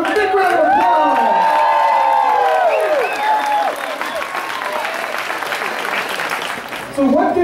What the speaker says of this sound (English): Let's start on with a big round of applause.